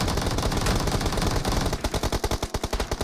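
Rapid automatic gunfire rattles through a battle royale video game match, first as a dense sustained burst, then breaking into distinct loud shots in a steady rhythm, close and alone with no talk.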